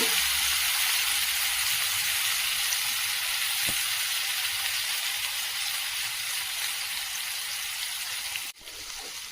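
Fish fries on a dosa griddle, giving a loud, steady, close sizzle that holds for nearly the whole stretch before dipping briefly near the end.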